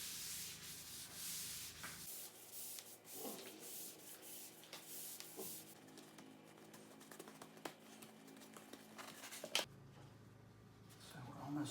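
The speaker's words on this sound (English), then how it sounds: "Put a lint-free cloth over top, and now you can start pressing it out." A lint-free cloth rubs and presses over a photograph to smooth it onto a mounting board, giving close, soft, continuous scraping strokes with small taps and no talking.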